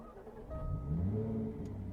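A 2016 Jaguar F-Type coupe with a six-speed manual fires up from its start-stop button, the engine catching and swelling into a rising whir and hum before settling into a steady idle, close by and fairly quiet.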